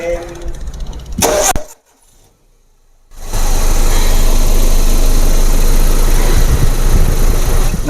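Car engine idling with the radiator fan spinning fast, a steady loud mechanical whir and rumble that drops out briefly near the start before resuming; a voice speaks over it early on.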